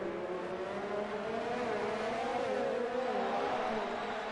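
Formula 1 race cars at the Japanese Grand Prix in an F1 video game league, their high engine whine rising and falling steadily as they run close together, a continuous droning tone.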